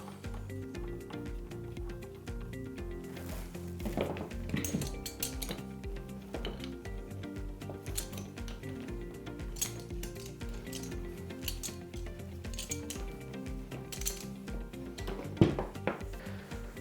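The hose of a Wagner Control 150M airless paint sprayer is fitted to its connector after the protective covers come off, giving scattered close metallic clinks, taps and handling knocks over a quiet background.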